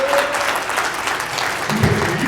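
Audience applause at a credit and debt summit speech in Atlanta, a steady broadband wash of many hands clapping throughout, with a brief low voice rising near the end.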